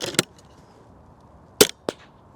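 Two sharp, loud air rifle reports from an AGT Uragan 2 fired outdoors in gusty wind, a first shot with a quick follow-up crack later, each a short burst with brief decay over a quiet background.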